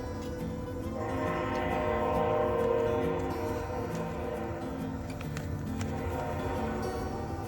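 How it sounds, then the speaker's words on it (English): A train rumbles past near a lakeside fishing and truck camping spot. The steady, fairly faint rolling drone swells and then eases away, with brief squeals and clanks from the wheels. "there's a lot of trains around here"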